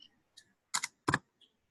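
Several separate keystrokes on a computer keyboard as a new folder name is typed: sparse, uneven clicks with two stronger double taps in the middle, close and crisp, and no speech.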